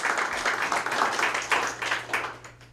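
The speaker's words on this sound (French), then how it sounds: "On les applaudit également" Brief applause from an audience at a contemporary art museum exhibition opening, a dense burst of clapping fading out within a few seconds.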